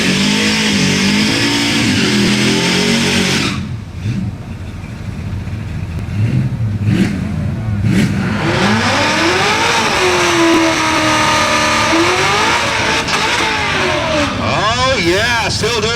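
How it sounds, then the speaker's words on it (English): At a drag-strip event a Camaro and a green S10 pickup do smoky burnouts, with loud, continuous engine revving and roaring close by, rising and falling, and an announcer talking over it. "still doing some nice smoky burnouts"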